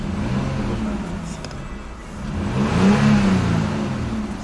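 A Peugeot 607 with the Z9 V6 engine, converted from automatic to manual, revs while still cold, the steady idle swelling into a moderate rise in pitch and loudness before settling back, heard close up without talk.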